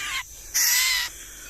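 A wild young white-rumped shama (murai batu) calls loudly and close in a forest garden, giving two sharp, bright bursts, the second longer, over a quiet background.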